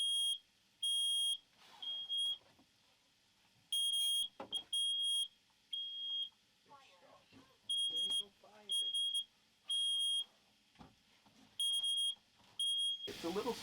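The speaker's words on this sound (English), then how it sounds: "It's okay, fire alarm." A smoke alarm beeps in repeated loud bursts while pasta cooks on a stove inside a truck camper during a snowstorm, with talk and kitchen clatter between the beeps.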